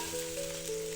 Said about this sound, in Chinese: 把控干水分的排骨倒在锅中，开小火，把排骨表面的水分炒干